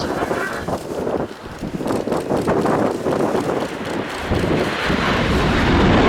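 Tiltrotor aircraft flying at the RIAT airshow with rotors tilted forward as propellers, a loud rumbling drone mixed with wind buffeting on the microphone, building steadily in strength.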